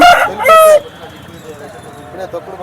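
A rooster crows loudly twice in quick succession close by at the Nallapadu poultry market, followed by quieter background chatter and faint market bustle.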